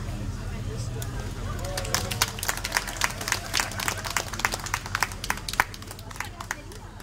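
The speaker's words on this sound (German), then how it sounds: "Begrüßen Sie mit einem Applaus das Forstamt" An outdoor crowd at a traditional village festival parade claps for the passing forestry office group. The scattered applause is fairly distant and builds after a couple of seconds, with an announcer speaking over a low background hum.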